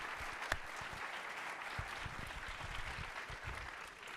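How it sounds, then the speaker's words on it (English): An audience at an elevator pitch competition gives a round of applause for sponsors and supporters, heard as a faint, distant, steady patter of clapping with a few sharper individual claps standing out. "how about one more round of applause for all the sponsors and supporters?"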